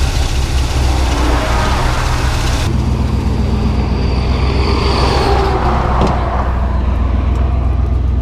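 A Volkswagen dune buggy engine running close by, a loud, steady rumbling drone throughout, with no talk.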